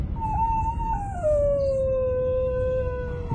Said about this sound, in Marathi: अचानक तिला बाहेरून कुत्री रडत असल्याचा आवाज आला.